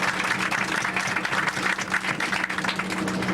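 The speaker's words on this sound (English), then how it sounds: "Let's give a warm applause to the driver" A tour group riding a bus in Mexico gives its driver a warm round of applause, the clapping continuous, dense and close for the whole stretch.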